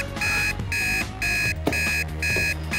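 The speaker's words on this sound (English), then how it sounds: "What is that alarm clock?" An alarm clock rings in a child's bedroom: four bursts of bright electronic beeping, each about half a second long, with short gaps between them and a low background underneath.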